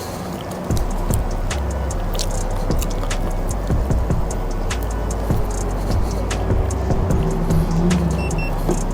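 Hiboy S2 Pro foldable electric scooter running on throttle alone up a parking garage ramp, with a loud steady motor whine and road rumble plus scattered clicks and rattles, no speech.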